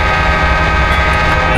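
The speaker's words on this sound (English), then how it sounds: "I've just done another warning horn as we pass another railroad crossing" A CSX GE AC6000CW locomotive's warning horn in Train Simulator 2019, sounded at a railroad crossing: a loud, sustained multi-tone blast that holds steady for the whole moment.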